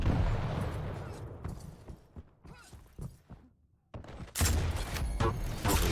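Rocket launcher fire in a Quake Pro League match: a series of sharp blasts and impacts with gaps of near silence, then a loud sustained burst of explosive noise at the end, with no talk.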